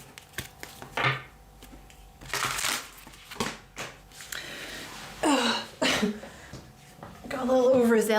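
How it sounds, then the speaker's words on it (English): A deck of tarot cards shuffled vigorously in bursts of riffling and slapping, close and fairly quiet, with a voice speaking in between. "Got a little overzealous with the card shuffling there."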